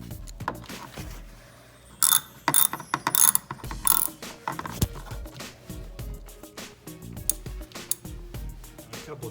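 A socket ratchet clicks in quick bursts while a spark plug is snugged down in a Hyundai Elantra engine, close by, with metallic rattles and pauses between the runs of clicks.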